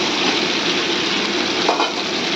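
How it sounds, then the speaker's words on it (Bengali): Fish pieces dropped into spice paste frying in mustard oil, giving a loud, continuous close sizzle with a brief stir midway. "এবারে এর মধ্যে মাছগুলো দিয়ে দেবো,"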